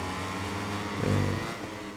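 Racing motorcycle engine in MotoGP 21 at Jerez, a steady high-pitched drone that surges louder and revs up partway through before settling back, with no talk over it.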